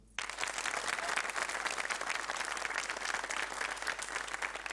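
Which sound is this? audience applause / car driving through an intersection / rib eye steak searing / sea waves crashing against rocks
audience applause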